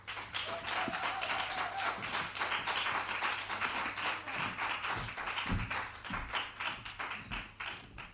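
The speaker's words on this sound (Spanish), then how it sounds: "Un fuerte aplauso para Alessia." An audience applauds speaker Alessia at a talk on music therapy and taxation, with dense sustained clapping from a roomful of people that continues throughout.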